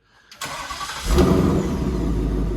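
A 347 V8 Ford Fox-body Cobra engine cranks and catches in quiet exhaust mode, settling into a steady, fairly subdued idle with a low rumbling exhaust.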